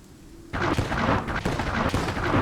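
Mortar and artillery fire in the WWII game Gates of Hell Ostfront, a sudden loud boom that opens into sustained rumbling blasts and repeated heavy thuds.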